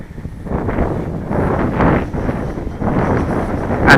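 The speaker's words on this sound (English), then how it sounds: "And the wind's getting a bit gusty now." Wind gusting at an RC model flying field, buffeting the microphone in rough surges that swell and fade across the stretch, loud and close with no talk.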